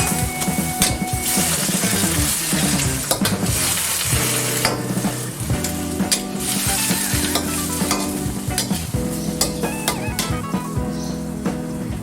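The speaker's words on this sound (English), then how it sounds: "And then stir fry it some more before covering it for another 20 seconds." Vegetables stir-fried in a pan while cooking Malaysian herbal bak kut teh give a loud, continuous sizzle with steady scraping and clattering of the utensil against the pan, running alone throughout.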